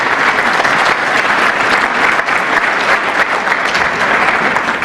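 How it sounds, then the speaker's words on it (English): A dense audience applause fills a hall honoring a longtime trustee, loud and continuous throughout with no letup, a wash of many hands clapping at once. "let us clap for you"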